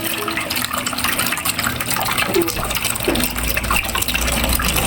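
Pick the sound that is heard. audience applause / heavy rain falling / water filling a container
water filling a container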